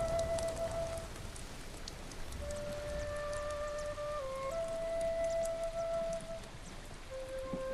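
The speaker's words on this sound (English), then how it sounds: "Oh, hold on, it's raining." Steady rain pours across the landscape in Ghost of Tsushima, a dense hiss of drops on surfaces running throughout, with a sustained tonal musical line from the game's score drifting above it and no talk.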